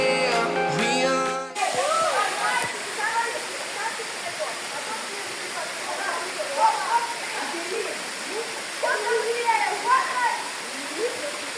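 A waterfall roars as a steady broadband rush after a brief burst of music at the start, with voices talking faintly over the water.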